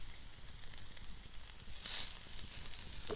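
A steak sizzling over a campfire on a lean-to camping trip, a steady, soft crackling hiss that continues without pause and with no one talking.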